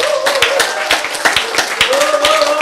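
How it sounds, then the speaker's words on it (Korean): Audience hands clapping in a few quick bursts during a Korean health lecture, sharp claps scattered over a sustained tone and a voice in the room. "박수 칠 때야."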